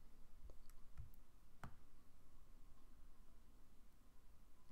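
A few faint, sharp computer mouse clicks while a photo overlay is dragged, scattered singly over a quiet hiss.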